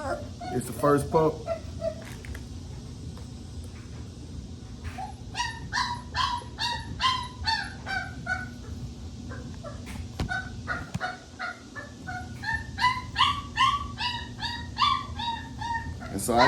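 Boerboel puppies whimpering and yipping while being dewormed, a string of high squeals and yelps in close bursts, with someone talking nearby.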